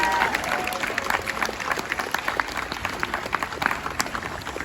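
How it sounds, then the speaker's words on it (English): An audience applauds Q&A panelists at a Kentucky Kingdom amusement park event, with a steady patter of many hands clapping at moderate distance, fading slightly toward the end. "Let's give them a round of applause."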